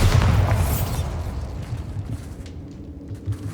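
Bombarda blasting spell explosion in the video game Hogwarts Legacy: a loud, booming burst at the start that decays into a rumbling tail with scattered debris-like crackles, no voices.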